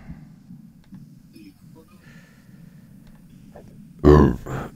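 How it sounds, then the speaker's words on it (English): A single loud, close burp after beer and Pepsi erupts abruptly after a few seconds of quiet room tone and faint movement, with a short rumbling tail. "Are they beer burps or Pepsi?"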